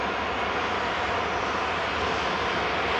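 A TUI airliner at Manchester Airport roars steadily and loudly throughout, a continuous broadband engine rush with no voices over it.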